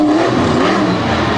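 Loud, close engine roar from a racing truck on the track at the 2022 Thunder in the Valley event, a sustained rev filling the moment with no voices.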